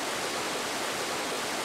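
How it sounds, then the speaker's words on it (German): A large waterfall in the video game Dark Cloud pours in a steady, dense rush of falling water, continuous and even throughout with no voices. "Wir sehen hier einen großen Wasserfall mit einem Schild."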